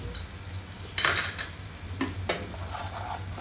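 A spoon stirs tamarind paste and jaggery into an onion masala in a pan, a few distinct scraping strokes over a continuous low sizzle and a steady hum.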